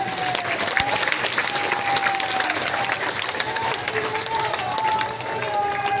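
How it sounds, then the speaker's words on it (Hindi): Dense clapping and cheering from a large outdoor crowd at a religious discourse gathering in Raipur, steady and close, with voices calling out over it. "एक बार खुद के लिए ताली बजाना"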